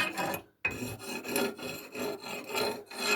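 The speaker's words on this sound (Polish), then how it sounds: "Wziąłbym jeszcze hak. Może coś tam poszkrubiemy." A hook scrapes and rasps inside a coal-fired boiler with rhythmic, gritty metal strokes, close and moderately loud, broken by a brief pause early on.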